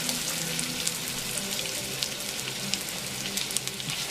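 Italian sausage sears in olive oil in a pan with a steady close sizzle, sprinkled with small irregular pops and crackles, and no one talks.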